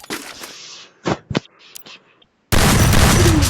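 Shotgun fire in the Free Fire mobile battle game: a few sharp separate blasts with short gaps, then a loud continuous burst of dense game noise at the end.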